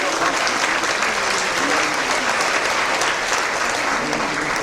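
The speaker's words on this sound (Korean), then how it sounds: "우리 박수로 영광 드립니다." A church congregation claps together at a service honouring an elder pastor and newly appointed church officers, a dense, steady wash of applause that fills the room without a break.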